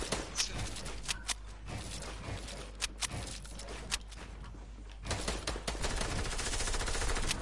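Video game gunfire cracks in rapid bursts and scattered single shots, at moderate loudness with a busy game soundscape beneath, growing denser in the final seconds.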